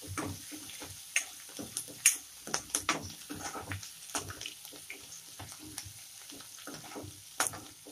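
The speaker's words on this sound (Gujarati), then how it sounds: "ગેસ ઝીરો કરીને આને સરસ ગુલાબી થાય ત્યાં સુધી શેકીશું." Garlic and green chillies roast in oil on a low flame, a quiet crackling sizzle dotted with irregular ticks and pops throughout.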